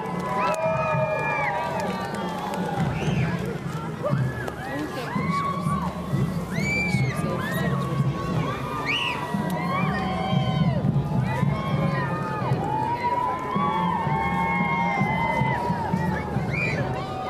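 Outdoor crowd noise with children shouting and cheering, busy overlapping voices and general commotion throughout, loud and continuous.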